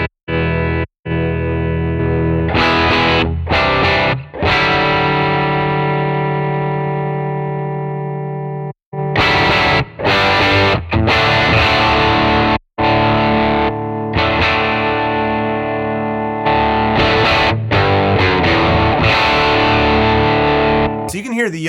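Electric guitar through an Analogman King of Tone overdrive capture on the yellow side, a mid-gain distorted tone playing loud sustained chords and riffs with brief pauses between phrases.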